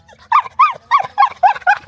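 Several dogs bark outdoors in a quick run of about seven sharp, evenly spaced yelps and barks, close and loud.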